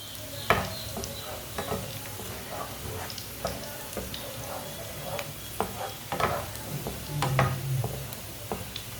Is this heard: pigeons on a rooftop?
no